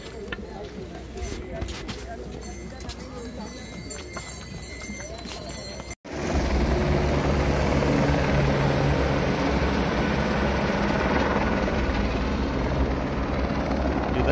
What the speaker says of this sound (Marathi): हेलिकॉप्टरचा बेस कॅम्प आहे.